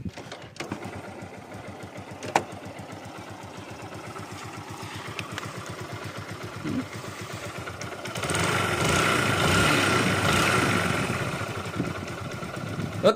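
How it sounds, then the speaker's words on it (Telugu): A motorcycle engine idles with its silencer refitted, a steady rapid mechanical beat and crank knock running throughout, close and fairly loud, swelling louder briefly near the end as revs rise. "మీకు సైలెన్సర్ బిగించిన తర్వాత ఇంజిన్ బీటింగ్ వినిపిస్తుంది చూడండి"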